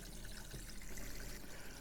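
Water running steadily from an RV faucet in a Jayco NorthPoint 310RLTS, flushing antifreeze out of the lines; a continuous, faint, even hiss and trickle with no talking.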